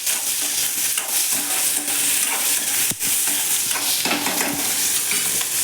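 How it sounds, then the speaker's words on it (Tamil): Tomato and onions sautéing in a pan, a steady loud sizzle and fry hiss running throughout, with occasional stirring scrapes and no voices. "ஒரு தக்காளி போட்டு இப்போ வதக்க போகிறோம்"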